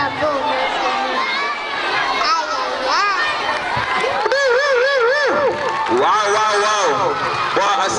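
A crowd at an outdoor Jamaica Day celebration cheers and shouts for a performer, with excited voices rising and falling over steady background applause and chatter, loud and close throughout.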